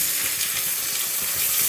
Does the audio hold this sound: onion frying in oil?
yes